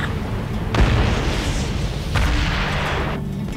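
Aircraft blown up in the combat flight game Ace Combat: Assault Horizon, with two heavy booming blasts about a second and a half apart, each rolling into a roar over steady loud engine and battle noise.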